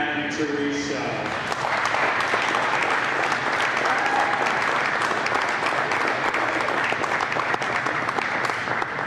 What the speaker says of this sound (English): Once again, can we get a round of applause for the